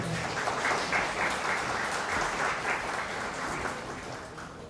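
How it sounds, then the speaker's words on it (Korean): Wedding guests in a convention hall give warm, sustained applause, a dense even roar of clapping that fades slightly toward the end. "다시 한번 따뜻한 박수 보내주시기 바라겠습니다."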